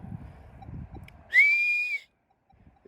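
A single short rising human whistle, close and clear, sounds out once to call a deaf old dog, following a stretch of low muffled outdoor rustling.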